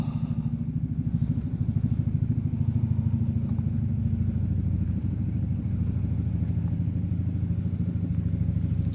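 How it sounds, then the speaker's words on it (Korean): A motorcycle engine left running unattended idles in a steady, close, low rumble with a fast even putter that holds for the whole stretch, with no voices. "저 사람이 오토바이 시동을 안 끄고 올라가 버렸네."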